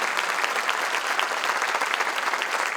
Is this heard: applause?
yes